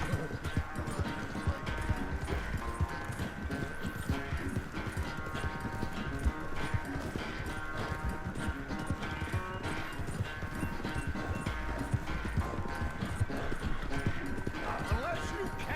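Horse hooves clip-clop in quick steady rhythm from the Red Dead Redemption 2 video game, with a whinny over a constant game background and someone talking throughout.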